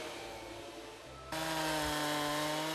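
A chainsaw trims branches off felled trees in a snowy Russian winter logging forest, idling with a low buzz before revving into a loud, sustained whine of cutting that holds steady to the end, with no talk.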